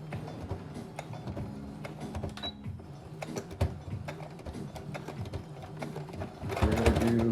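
A sewing machine stitches a straight line on tapered pants, its motor rattling and clicking close by in an irregular mechanical run that grows louder near the end.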